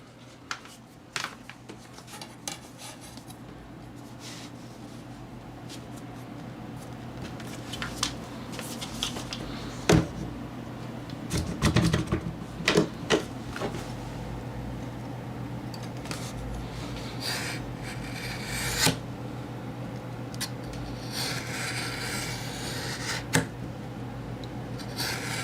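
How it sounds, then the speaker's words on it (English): Paper is being trimmed by hand for making small pocket notebooks, giving repeated dry rasping and rubbing strokes with occasional sharper cuts and knocks, close and steady over a low background hum. "can you guys hear the sound of the paper cutting?"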